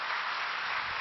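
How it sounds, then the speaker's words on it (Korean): A church congregation applauds steadily, a dense wash of clapping that holds at an even level for about a second with no voices. "박수 한번 부탁드리겠습니다"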